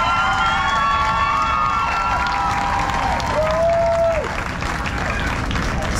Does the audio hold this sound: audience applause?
yes